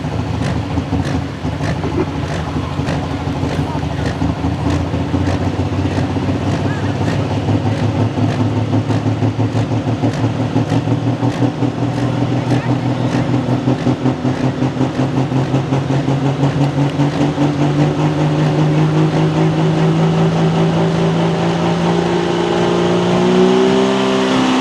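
A super/pro stock pulling tractor engine at a tractor pull, idling roughly and then revving in steady rising pulses, loud and close, with a heavy pounding rhythm throughout and no talk.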